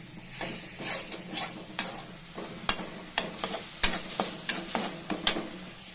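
Brinjal bharta sizzles and fries in a pan while a spoon scrapes and stirs it in steady, regular strokes, close up with no talk.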